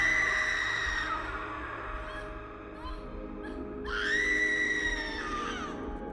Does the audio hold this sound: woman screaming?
yes